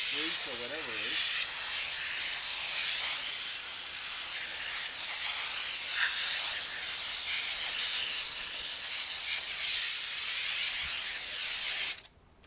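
Steam cleaner jetting onto a motorcycle wheel, a loud continuous hiss that holds steadily for about twelve seconds before cutting off abruptly, with a brief warble at the start.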